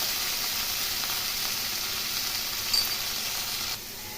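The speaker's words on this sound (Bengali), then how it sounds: "পটল নুন হলুদ দিয়ে ভেজে নিচ্ছি" Pointed gourd fries in a pan with salt and turmeric, giving a steady bright sizzle throughout with a faint clink near the end before the hiss drops slightly quieter.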